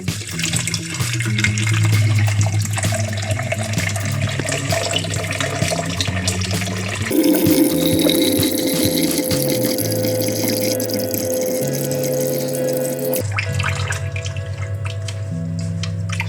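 Tap water from a Lexpure reverse osmosis filter with a pump filling a one-liter cup, a steady close stream that changes pitch as the cup fills, with a pump humming underneath.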